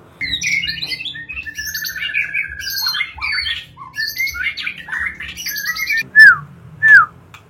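A white-rumped shama sings a rich, varied run of whistles and warbling phrases, close and continuous, ending with two loud, sharp rising whistles.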